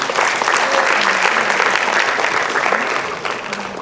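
Audience applause at a live performance of a musical play, a dense, steady wash of clapping hands that stays loud and even for several seconds with no voices on top.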